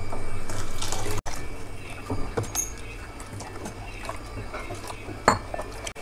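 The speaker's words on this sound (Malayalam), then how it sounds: "കുറച്ചും കൂടെ വെള്ളം ചേർക്കണം." Water poured into ground rice batter for neer dosa, a steady splashing trickle into a vessel with occasional clinks of the pot, close and fairly loud.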